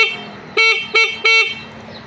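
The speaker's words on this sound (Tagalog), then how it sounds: "ito po ang kanyang stock horn" The stock horn of a Euro 150 motorcycle sounds in three short, loud, nasal blasts in quick succession, close by, with a low engine idle running underneath.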